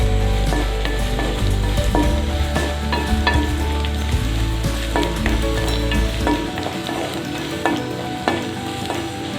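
Chopped tomato hits hot oil in a pan for nethili (anchovy) fish gravy, setting off a steady, loud sizzle and crackle while it is stirred, with scraping clinks throughout and no talking.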